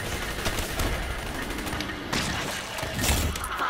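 Rapid bursts of gunfire from Call of Duty: Black Ops III Zombies play loud and continuous, with dense overlapping shots and crackling impacts throughout.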